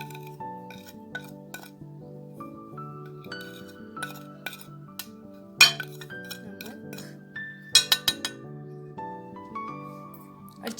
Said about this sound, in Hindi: अच्छी तरह से मिक्स करेंगे।